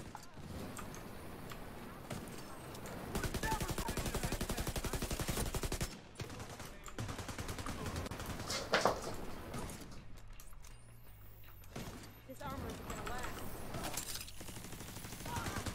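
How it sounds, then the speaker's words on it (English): An AA-12 automatic shotgun fires in the video game The Division 2 on Roosevelt Island, with sustained rapid loud blasts in long dense bursts, brief gaps between volleys, close and dominant throughout. "Watch yourself. It's an AA-12."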